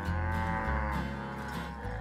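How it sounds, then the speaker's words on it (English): Cartoon cows in the Care Bears' land of Care-a-Lot moo loudly and continuously, a deep drawn-out lowing that shifts pitch partway through and fills the whole moment. "Funshine, those cows ate all the flowers in Care-a-Lot."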